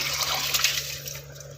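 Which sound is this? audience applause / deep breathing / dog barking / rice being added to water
rice being added to water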